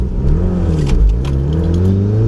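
Car engine fitted with motor mount inserts revving hard under turbo boost, a loud, close, sustained roar with the pitch rising and dipping as the throttle is worked, with no speech.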